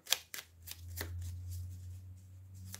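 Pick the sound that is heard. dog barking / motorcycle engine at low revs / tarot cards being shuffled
tarot cards being shuffled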